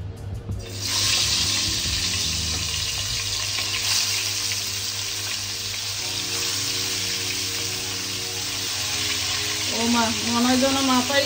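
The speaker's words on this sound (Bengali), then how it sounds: "হলুদ আর লবণ মেখে আগে একটু ভেজে নিব" Poa fish coated in turmeric and salt frying in hot oil, a steady sizzle under a low hum, with a faint voice toward the end.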